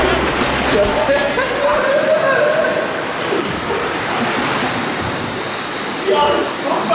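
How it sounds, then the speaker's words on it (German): Water splashes and rushes continuously in an indoor swimming bath with slides, a loud, steady wash with voices faintly audible beneath. "Das Wasser plätschert nur für die und mich."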